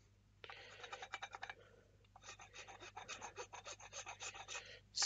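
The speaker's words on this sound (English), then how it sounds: "On that hard stuff here, I like to use the file because it's quick and efficient." Rasping strokes of a file on hard resin, a quick series of scrapes, a short pause, then another run of close, rhythmic filing.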